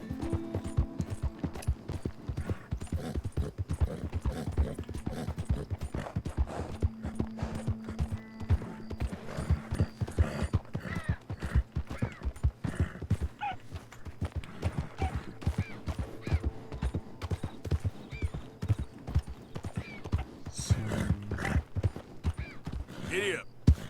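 Galloping horse hooves in the video game Red Dead Redemption 2, a fast continuous clip-clop rhythm running close and loud throughout, with a brief whinny and someone talking over it now and then.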